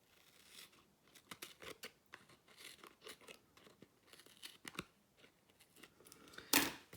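Scissors snip repeatedly through paper while cutting a gift card pocket for a scrapbooking craft, in quick irregular cuts, close and crisp, ending with a louder rustle.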